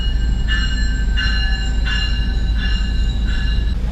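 Loud westbound Metro train passing a station on the Southern California rail line, a steady low rumble with rhythmic high squeals from the wheels repeating about every half second.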